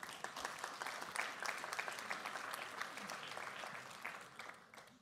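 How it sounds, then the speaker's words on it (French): Audience at an evening talk on Generation Y and wine applauding together, a sustained even wash of many hands clapping at moderate distance that begins to thin at the end. "Et vous pouvez vous applaudir."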